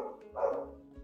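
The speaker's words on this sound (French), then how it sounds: "j'ai un chien là, le chien de mes voisins, il fait tellement de bruit." A neighbours' dog gives a single bark, moderately distant and fairly quiet, rising briefly over a low background hum.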